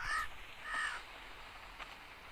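Two loud crow caws open the Survivalcraft 2 game scene, close together and near, followed by a quieter stretch with a faint click.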